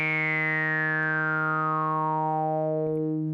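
Casio CZ-101 synthesizer sawtooth wave with resonance, a sustained note whose bright resonant peak sweeps steadily downward, giving a smooth vowel-like filter glide over a constant buzzy tone, heard alone.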